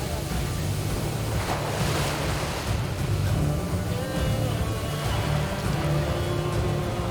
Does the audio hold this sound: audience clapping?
no